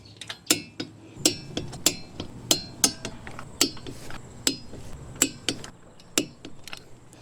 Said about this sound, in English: Wheels get torqued to 75 foot-pounds.